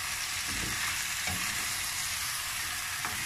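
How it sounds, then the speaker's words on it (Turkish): Peas and potatoes fry with a continuous loud sizzle in a pan, while a utensil stirs them in a few soft scraping strokes. "Hepsini şöyle karıştıracağım"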